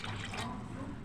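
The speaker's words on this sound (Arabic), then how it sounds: "هنزل كمان بكوبايه زيها، يعني كوبايه وسط من الميه دي هنزل بيها كوبايتين ميه" Water poured from a medium cup into a cooking pot of vegetables for a yellow lentil dish: a short, steady splashing pour that fades within about a second.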